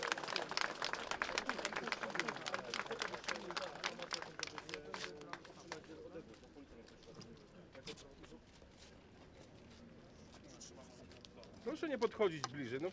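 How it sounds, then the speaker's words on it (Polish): A crowd claps at a solemn memorial ceremony for the victims of German Nazi concentration camps, with dense, fairly loud applause over the first half. It thins out while people talk, and there is a brief swell near the end. "jeszcze raz proszę o gromkie brawa"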